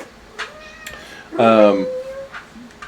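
A house cat gives a single clear, loud meow up close, with a few fainter chirps and mews around it and quiet background noise.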